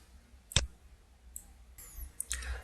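Computer mouse clicks from a MySQL Server Manager session, a sharp near click followed by a few fainter, quieter clicks spread over a couple of seconds, with no voices.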